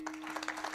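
Men in a kirtan audience give a brief burst of rhythmic hand clapping, faint and roomy.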